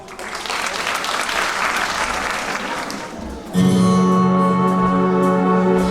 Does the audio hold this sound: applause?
yes